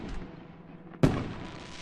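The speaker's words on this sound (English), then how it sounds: "Oh, that must be the last of the fireworks." A single sharp firework burst in the visual novel game Love Esquire, a loud close bang followed by a fading crackling tail, with a quieter muffled rumble before it and no talk.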